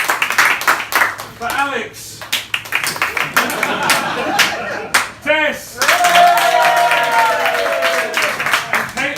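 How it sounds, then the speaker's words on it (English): Audience applause at an improv theatre show, bursts of scattered clapping rising and fading several times, with a host's voice speaking between and over them. "Applause, please."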